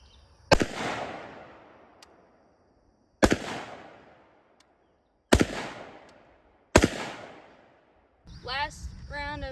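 Four sharp pistol shots at an outdoor range, spaced a few seconds apart and each trailing off in a long echo, followed by a brief burst of talk.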